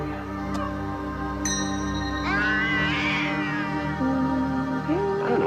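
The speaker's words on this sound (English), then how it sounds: "Hold on to that cat good and tight now" A cartoon cat from Garfield: His 9 Lives meows and caterwauls in drawn-out, rising and falling wails over a steady electronic hum, loud and close, with no talking.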